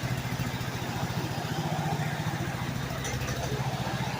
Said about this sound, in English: And now you can see it runs just the same.